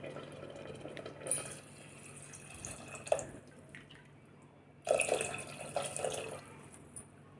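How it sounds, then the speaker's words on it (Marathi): Water splashes and gurgles into a pot in two bursts, the second louder and longer, over a low steady background hum. "आता यामध्ये आपल्याला टाकायचं आहे पाणी"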